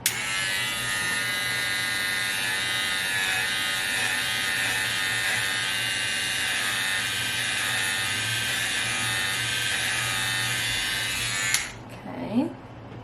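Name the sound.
electric hair clippers cutting hair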